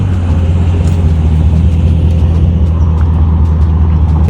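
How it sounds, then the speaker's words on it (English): Several cars, including a Lamborghini, idle and shuffle around a garage early in the morning, a steady loud low engine rumble with no voices over it. "we're just moving around the cars right now"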